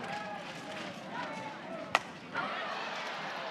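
A single sharp crack of a softball bat fouling off a pitch at a college softball game between Oklahoma and Oregon, rising out of low crowd murmur and a commentator's voice.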